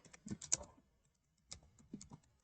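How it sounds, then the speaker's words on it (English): Someone types on a computer keyboard while entering boilerplate HTML code, with a quick burst of close, crisp key clicks, a pause, then a few more strokes. "here first I will type in the boilerplate code"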